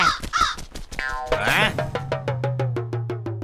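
A crow caws repeatedly in a steady series of harsh calls, close and loud, following a brief burst of other noise at the start, in a cartoon.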